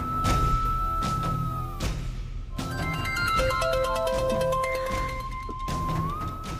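A phone ringtone in a Tamil TV serial scene plays as a sustained electronic melody, loud and continuous with layered tones and a brief pause partway through, with no talk over it.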